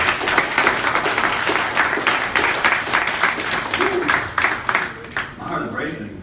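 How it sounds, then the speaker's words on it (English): An audience at an artificial intelligence motion debate applauds the debaters, loud continuous clapping that thins toward the end as a voice begins to speak over it. "Ladies and gentlemen, one more round of applause for our incredible debaters."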